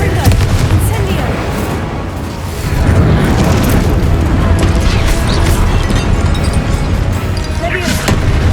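Spell explosions from Confringo and Incendio casts in Hogwarts Legacy gameplay make a loud, dense, continuous barrage of booming blasts and crackling impacts with no letup.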